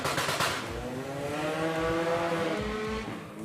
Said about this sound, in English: Looking good, both cars in the opening stages of this race.